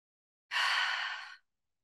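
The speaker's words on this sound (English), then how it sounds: "Inhale through the nose, exhale through the mouth. Make as much sound as you want on the exhale." A single deep exhale pushed out through the mouth, a breathy, airy rush lasting under a second, close and soft, followed by silence.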